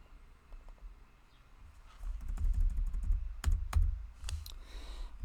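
Keys clatter on a computer keyboard during design work in Adobe Illustrator, a quick burst of close clicking taps with a few sharper strokes after a quiet start.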